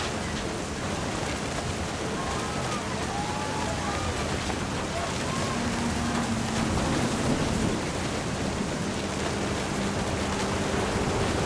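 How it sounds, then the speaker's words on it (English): A stormy scene from the video game What Remains of Edith Finch, with a steady wash of heavy rain and rolling thunder rumbling beneath it, continuous and fairly loud throughout, while a voice speaks over the storm. "Thunder sounded much too close and full of angry power."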